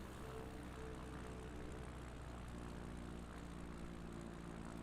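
Inside a small propeller plane on a bush flight in New Guinea, the engine and airflow hold a steady, faint drone as the aircraft slows with full flaps for landing on a short strip.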